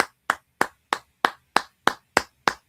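Single pair of hands clapping nine times in a slow, evenly spaced rhythm, each clap sharp and close with silence between.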